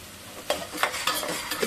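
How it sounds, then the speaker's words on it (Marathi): Homemade spice masala sizzles in hot oil as it is sautéed for amti, with soft, rhythmic stirring scrapes roughly every third of a second. The sound is quiet and close, with no voices. "छान परतून झालं ना, तेल सुटेपर्यंत जरा परतून घ्यायचं"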